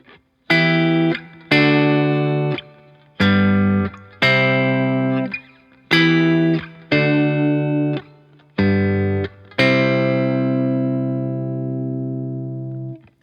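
Fingerpicked guitar chords struck one after another, each ringing briefly before the next, in a steady rhythm ending on a long sustained chord, close and clear.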